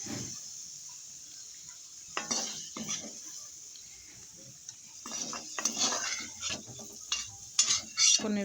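A metal spoon scrapes and clatters in a pan of frying paneer and cauliflower pieces, irregular stirring knocks over a steady soft sizzle of hot oil.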